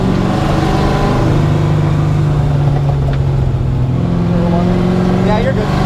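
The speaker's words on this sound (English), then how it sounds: "clutch kick." A V8-swapped Mazda RX7 drifts after a clutch kick, its engine droning loud and steady close by while a voice talks over it.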